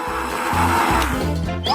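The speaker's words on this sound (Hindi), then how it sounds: "तो अब आगे ब्लेंडर की जरूरत है। मुझे सामग्री को मिक्स करने दो।" A blender whirs as it mixes ingredients that include sodium alginate for a Coca-Cola food hack, running as a loud, close motor drone that shifts pitch in uneven pulses and rises sharply at the end.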